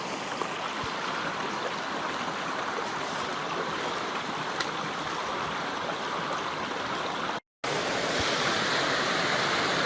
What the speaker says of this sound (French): Le ruisseau qui arrive de la route de Marston.